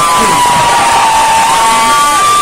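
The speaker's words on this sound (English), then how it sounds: "Give them a big round of applause." A crowd at an outdoor vigil applauds and cheers, a loud continuous roar of clapping and voices with a sustained high whistle-like tone running through it.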